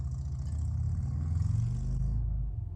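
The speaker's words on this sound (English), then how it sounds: "there is a motorcycle outside and it's very loud" A motorcycle engine rumbles nearby with a deep, steady throb that swells slightly and then eases off toward the end.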